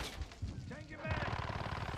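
A sentry gun fires in a video game, a quiet, rapid, rhythmic burst of automatic shots after a few brief scattered sounds.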